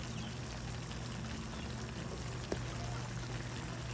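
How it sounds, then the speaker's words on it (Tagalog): Water poured over chopped vegetables, including eggplant, to soak them gives a quiet, steady splashing wash with one small knock midway, faint and close, without talk. "once na chinap ko yung mga gulay, binababad ko sa tubig"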